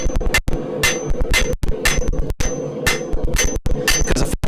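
Rapid, loud metal hammering in a smithy as edges of a piece of metal are bevelled for a feather, steady blows in bursts with brief pauses between runs.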